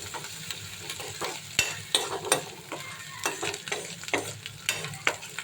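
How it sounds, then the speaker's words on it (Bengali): Spice paste being stirred and fried in a pan, with a soft steady sizzle broken by frequent sharp scrapes and knocks of the spoon against the pan, close and unhurried. "এই যে মশলাটা কষাচ্ছি"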